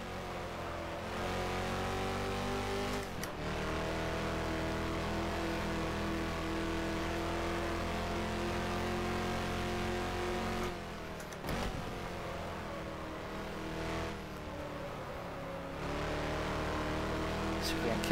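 Lola T70 race car in rFactor at Solitude, its engine droning loudly and steadily throughout with brief dips around gear changes, while someone talks over it.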